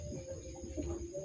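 A young blue pigeon coos softly in a loft, a brief low warble over a constant electrical hum.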